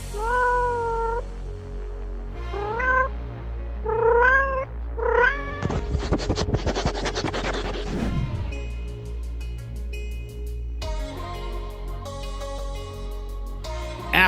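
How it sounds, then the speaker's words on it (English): A cat meows repeatedly in rising, wavering cries, then breaks into a loud, harsh caterwaul before further drawn-out meows, close and clear with a faint steady background. "The cat fits this role perfectly."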